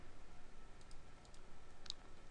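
A single mouse click on the OK button in SPSS statistics software, faint and sharp, standing alone over a quiet background hiss.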